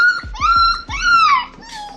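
A young Cavapoo puppy, just picked up at an airport, whimpers and whines up close, a few short yelps rising into drawn-out high-pitched cries, loud and continuous with no talking.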